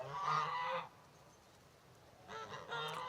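Farm geese honking in two loud bursts, one at the start and another near the end, close by with a quiet pause between them.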